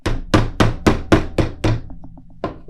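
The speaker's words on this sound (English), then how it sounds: "you can come in with your heavier hammer and do a targeted area" A heavier hammer pounds flowers onto padding for smashed flower art, giving seven sharp, close thuds in a steady rhythm, then a short pause and one more strike.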